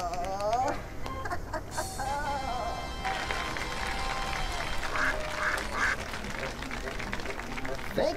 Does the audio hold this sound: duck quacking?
yes